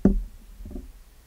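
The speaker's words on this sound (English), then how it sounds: "that's the sound of my pop filter being moved" A microphone pop filter being moved produces a dull knock followed by a softer rustling bump, both close and brief with nothing else around them.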